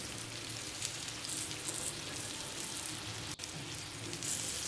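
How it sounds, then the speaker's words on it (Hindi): Breaded chicken heart pieces sizzle steadily in a frying pan, a dense, even crackle that runs throughout with no talking. "इसको अब पैन में फ्राई कर लें"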